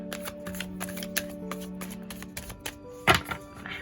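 A tarot deck is shuffled up close in quick papery riffling bursts, ending with a louder slap of the cards, over a faint steady background hum.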